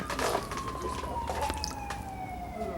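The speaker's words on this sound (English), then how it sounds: "get rid of that siren" A wailing siren glides downward across the clip, close and steady, under crowd noise and scattered voices at a 1986 Stevie Ray Vaughan show at the Lone Star Cafe in New York.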